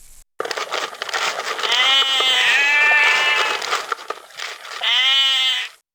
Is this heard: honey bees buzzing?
no